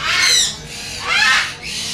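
Lory parrots squawk in harsh, loud bursts at an exotic bird market in Karachi, two close squawks about a second apart with a third starting.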